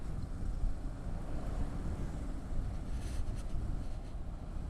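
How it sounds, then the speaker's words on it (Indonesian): Strong wind rushes past on an elevated road during a bicycle ride, a faint, steady low roar with slight gusty swells and no voices. "Karena anginnya kencang."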